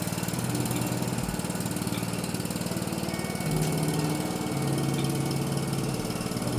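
A Toro Wheel Horse riding lawnmower engine runs steadily while being driven, a loud, continuous buzzing putter with a rapid regular pulse and slight shifts in pitch, with no talking.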